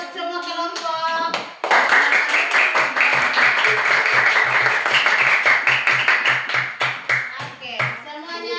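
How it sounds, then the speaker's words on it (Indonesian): A classroom of young pupils claps together for all the groups, a loud, steady patter of many hands that runs for several seconds after a brief teacher's voice, with children's voices mixed in. "Tepuk tangan buat semua kelompok."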